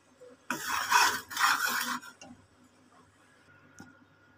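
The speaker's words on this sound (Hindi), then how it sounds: "मैं इसको हिलाती रहूँगी, छोड़ना नहीं है।" A spoon stirring thick jaggery toffee mixture in a pan, giving two quick bursts of scraping and clinking close up, then quiet with a faint tap.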